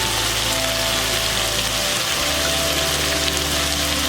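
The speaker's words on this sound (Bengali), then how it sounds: "এবার এগুলো আমি 3 থেকে 4 মিনিট ভেজে নিব।" Chopped onions and vegetables frying in a pan for chicken vegetable fried rice, giving a loud, steady, dense sizzle that runs continuously without a break.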